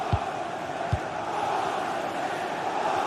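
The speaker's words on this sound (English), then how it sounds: "The crowd certainly think so. Just listen to that noise." Football match crowd roaring in a steady, broad wall of cheering and chanting, with a couple of dull thumps in the first second.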